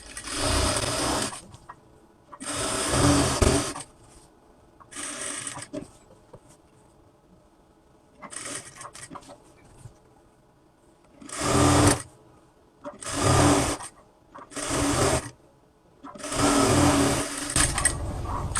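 Domestic sewing machine stitching the side seam of a kameez, running in several loud bursts of rapid mechanical whirring separated by short pauses, with no talk over it.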